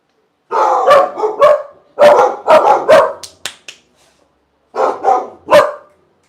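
A puppy barks close by in loud bursts of two or three sharp yips, pausing between groups and ending with a final flurry after a short silence.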